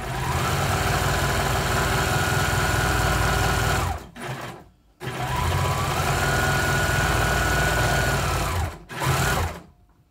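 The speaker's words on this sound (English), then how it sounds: "with my serger, you gotta be very careful because these do cut at the same time they sew" A serger sewing machine stitches and trims the edges of cloth for reusable toilet paper, running in two long loud whirring bursts separated by a short pause, with a brief final run and no talking.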